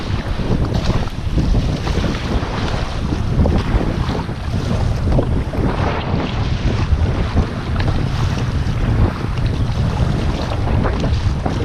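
Strong wind roars and buffets the microphone steadily throughout, with a constant low rumble and faint water sounds beneath it, on a kayak at O'Neill Forebay.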